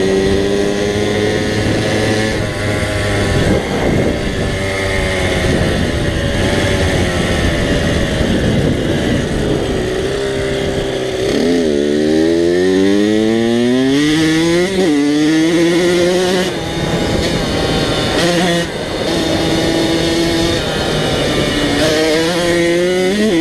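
A motorcycle with a freshly rebuilt carburetor is ridden at close range, its engine droning loudly and steadily, pitch climbing and dropping repeatedly as it accelerates and shifts through gears.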